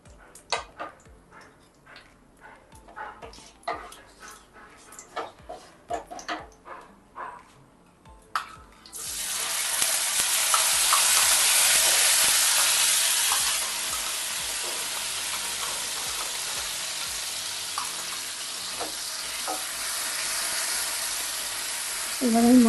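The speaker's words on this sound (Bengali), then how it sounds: "এবার এই মশলাটা ভালো করে কষিয়ে নেব" Ginger, onion and garlic spice paste hits hot oil in a pan with cumin and chilli and bursts into a loud, steady sizzle. Scattered ticks of browning cumin come before it, and the frying stays close and constant before easing slightly.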